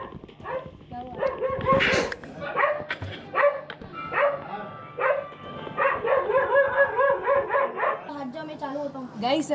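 A dog next door barks and yips repeatedly in quick bursts, fairly close, while people talk over it indoors.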